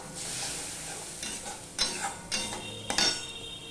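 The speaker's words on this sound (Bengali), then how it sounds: "মশলাটা কষানোর জন্য আমি একটু জল দিয়ে দেব দিয়ে মশলাটাকে আমি কষিয়ে নেব" A spice paste with a splash of water is fried in a pan, giving a soft hiss broken by a few sharp scrapes and clinks of a spatula against the metal.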